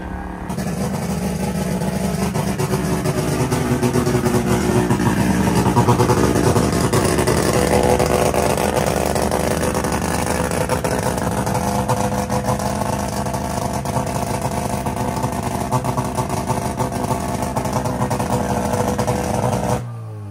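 A street-driven rotary-engine drag car of over 1,000 horsepower at a rotary jamboree in Brisbane, its engine running loud and close with a continuous buzzing drone that holds steady throughout.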